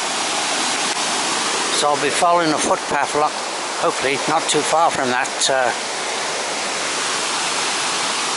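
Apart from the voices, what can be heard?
Afon Teigl waterfall tumbling down valley after rain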